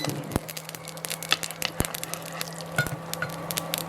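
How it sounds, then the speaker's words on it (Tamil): Mustard seeds crackle and pop in hot oil for homemade lemon pickle: scattered sharp clicks and snaps, some loud and close, over a faint steady sizzle. "இதுக்குள்ள ஒரு கரண்டி கடுகு போடுறோம்"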